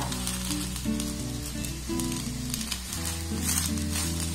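Shaped pieces of milk-soaked bread malai roll frying in hot ghee, a continuous close sizzle that runs under steady background music.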